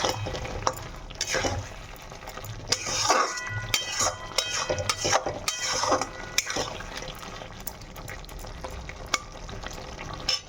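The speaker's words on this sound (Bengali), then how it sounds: "ডিমগুলো দিয়ে দিচ্ছি, দিয়ে আবার ভালো করে কষতেই থাকবো।" Eggs sizzling and being stirred in a pan for a spiced Bengali egg kasha, with bright scraping clinks of a utensil against the pan over a steady fry hiss.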